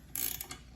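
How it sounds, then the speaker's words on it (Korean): A 13mm wrench tightens a mounting bolt on a hose reel, giving a quick, faint ratcheting click and scrape of metal under a second long. "다시 13mm 렌치를 가지고 체결을 해줍니다"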